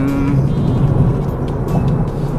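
A 2006 Honda Civic Si being driven, its engine droning loudly and steadily from inside the cabin with a constant, even tone throughout.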